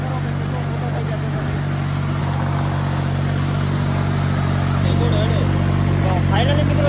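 A tractor engine labours steadily under heavy load, a loud continuous low drone with a faint rise near the end, while someone talks over it.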